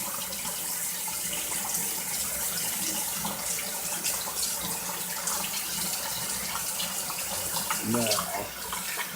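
Hot tap water runs steadily into a sink, splashing as an oil paintbrush is rinsed under the stream, with faint movement and a voice underneath.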